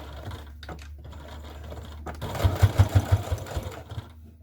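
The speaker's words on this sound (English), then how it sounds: "I'm going to start out sewing across this way, just so that I make sure that I get the top of that fabric stitched." A sewing machine stitches fabric for a dog leash, starting after a quiet lead-in with a fast, close mechanical chatter of rapid needle strokes that runs for a couple of seconds and then slows.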